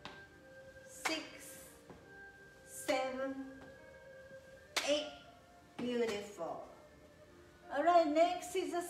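Sharp hand claps during a tai chi exercise class come as single loud smacks roughly every two seconds, with an instructor's voice and faint background talk between them.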